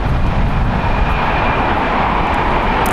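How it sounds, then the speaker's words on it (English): Steady, loud roar of a United Airlines Boeing 737-900ER in Continental retro livery landing at LAX on the north side, arriving from Chicago, with broadband engine and airflow noise holding constant throughout and no voices. "that is United Airlines and its Continental Airlines retro livery, flight 2234, landed in the north time from Chicago. It's a Boeing 737-900ER."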